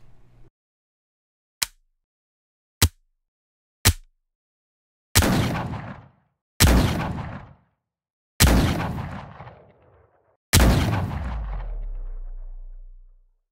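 Layered gunshot sound effect from a sample library, built up step by step: three short sharp transient clicks, then four loud booming shots with lengthening decaying tails, the last rumbling out longest, with no talk.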